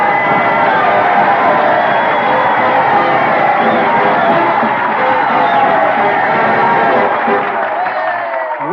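A large outdoor crowd at Gettysburg cheering and clapping after a long oration, a dense, loud, sustained roar of voices and applause staged as a radio drama effect.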